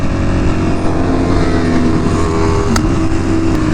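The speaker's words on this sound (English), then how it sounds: "As soon as I hit high RPMs, the bike just starts shaking." Engine of a Ducati motorcycle at a Ducati meet, shaking at high RPM with a suspected worn steering damper, drones loud and steady and close by for the whole stretch, with no talk.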